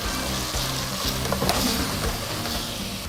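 Carrots, leek and green beans sizzle and fry in a pan while being stirred, a steady close hiss with light scraping of the utensil through the vegetables.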